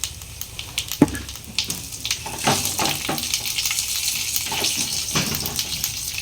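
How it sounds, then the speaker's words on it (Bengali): Cumin seeds, dried red chillies and bay leaf dropped into hot oil for tempering, an initial sharp crackle followed by a continuous bright sizzle with popping bursts, close and loud. "ফোড়নে দিয়ে দেব জিরে, শুকনো লঙ্কা,"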